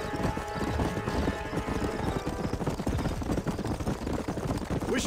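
Rapid clip-clop of a horse galloping in the Red Dead Redemption video game, steady continuous hoofbeats close and loud with game ambience beneath and occasional whinny-like sounds.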